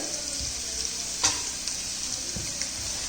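Sliced onions frying with ginger garlic paste in a pan for a fish egg thoran, a steady close sizzle with a few spoon scrapes and one sharp clink as it is stirred.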